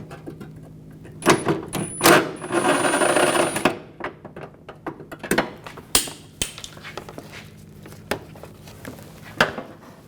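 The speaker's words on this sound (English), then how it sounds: "Using my 10mm socket. Take the nuts out." A 10mm socket wrench removes nuts from the radiator area of a 2004-2009 Audi A4, with rapid ratcheting bursts and scattered metallic clicks and taps, close by and without speech.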